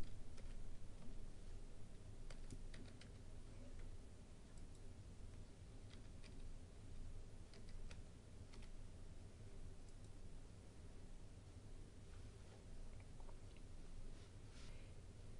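Keys clatter in sparse, irregular taps on a computer keyboard as numbers are entered, faint and close over a steady background hiss, with no talking.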